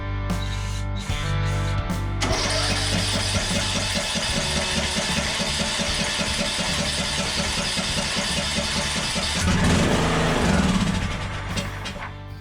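A Craftsman LT2000 riding mower engine cranks in short bursts, then catches and runs with a steady, loud mechanical chatter before a brief surge, close by and alone.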